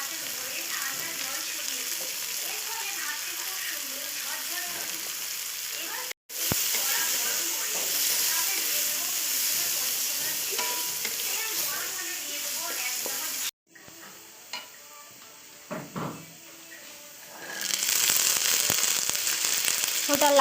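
Carrots and green peas fry in a pan for fried rice, a steady close sizzle with stirring clatter, broken by two abrupt cuts, then quieter scraping and a rising hiss at the end.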